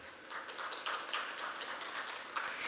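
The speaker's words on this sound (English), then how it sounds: "Please give him a big round of applause." Applause from a lecture audience for a departing speaker, a steady wash of many hands clapping at moderate distance, sustained evenly for a few seconds.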